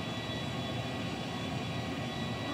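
Airplane engine in the video game GTA 5 story mode, a steady loud broadband roar of a stolen plane in flight, continuous and unchanging throughout with no talking.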